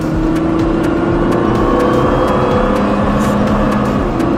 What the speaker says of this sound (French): quand on a les roues droites, on accélère de plus en plus fort jusqu'à fond